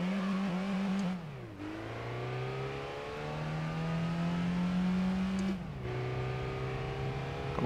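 Race car engine in Gran Turismo 3 revving steadily with two gear shifts, pitch dropping then climbing again, loud and continuous with no talk.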